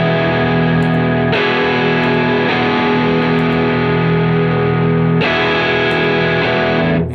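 Electric guitar chords through an overdrive pedal ring out loud and thick with distortion, one chord sustaining before a second is struck and left to decay.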